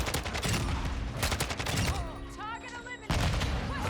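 Rapid bursts of Kastov-74u SMG fire in the video game Modern Warfare 2, loud and dense, with brief pauses between volleys and other game sounds mixed in.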